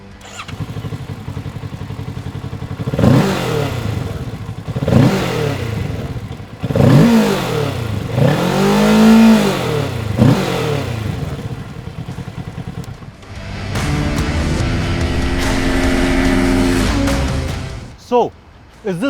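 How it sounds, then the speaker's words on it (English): A 2020 Kawasaki Ninja 650 BS6 motorcycle is started, then its parallel-twin exhaust is blipped through several rising and falling revs before settling into a rougher sustained idle, loud and close. "Let me fire up the motorcycle for you to hear the exhaust note."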